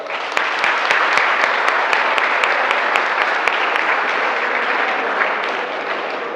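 An audience of school students applauds in a hall, dense sustained clapping at steady volume throughout, with a few sharp louder claps standing out early on.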